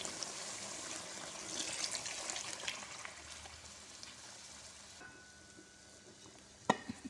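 Water poured into a pot of sizzling spiced potato masala cooked in oil for aloo pulao, a steady hiss and bubbling sizzle that settles and fades, ending with a single sharp clink of a utensil, close and moderately quiet.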